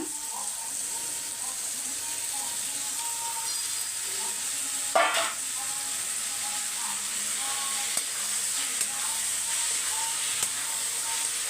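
Steady sizzling and frying hiss from tomatoes sautéing in a pan, with occasional stirring scrapes and clinks, continuous and fairly close.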